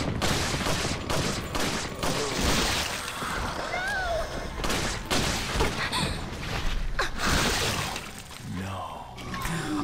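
Gunfire in Resident Evil 4: repeated sharp shots and impacts with clatter, loud and dense over several seconds, mixed with game sound effects and a brief gasp.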